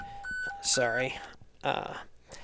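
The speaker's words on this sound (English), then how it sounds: "that was my alarm from the fire department" Short electronic fire department alarm beeps from a phone repeat at a steady pitch, followed by a person speaking.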